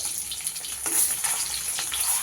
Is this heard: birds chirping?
no